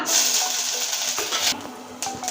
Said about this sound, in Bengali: প্রথমে ফড়নে দিব আদা কুচিটা